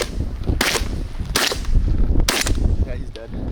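Three loud, sharp shotgun blasts ring out during an outdoor goose and duck hunt, spaced about a second apart, with faint calls and background noise between shots.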